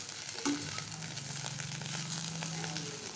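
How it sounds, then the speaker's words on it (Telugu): Bitter gourd fry with spicy coconut-chilli-garlic powder sizzles steadily in a pan, a close, continuous crackle with light stirring scrapes and one brief clink, no speech. "వేసి కలిపేసిన తర్వాత కొంచెం ఫ్రై కావాలి."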